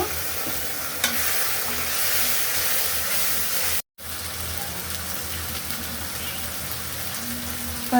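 Spice paste frying with tomato in a pan gives a steady, close hissing sizzle with a stirring scrape and a brief dropout midway, without speech.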